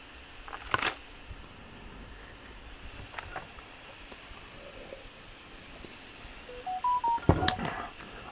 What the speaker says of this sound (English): my phone's going off like mental